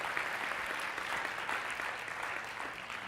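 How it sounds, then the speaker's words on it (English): A church congregation applauds during a spiritual teaching, steady sustained clapping from many hands filling the room, fairly soft and even throughout. "And you can applaud to that"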